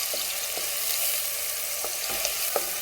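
Sliced onion with salt and chili flakes sautés in a pan with a steady, close sizzle, broken by a few light stirring scrapes.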